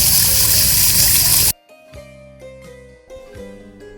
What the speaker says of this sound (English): there's drinkable water, so you can fill in your bottle and get hydrated